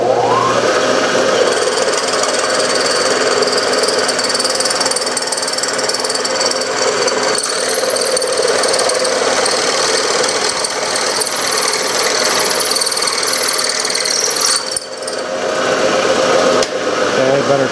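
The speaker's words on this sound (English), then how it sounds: "Drilling the tap size." Drill boring a tap-size hole for a spark plug thread in a Briggs 5S engine part, a steady loud whining, grinding drone with faint rattle throughout, briefly dipping near the end.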